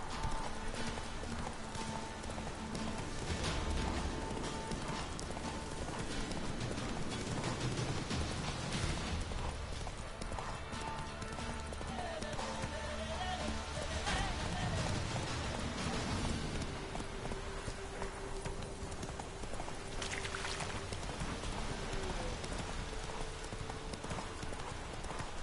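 Roach, a horse in the Witcher 3 video game, trots with a brisk, steady clip-clop of hooves over a continuous wash of rain and ambient game sound.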